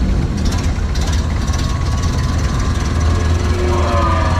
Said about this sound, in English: 1930 Ford Model A. One turn of the key.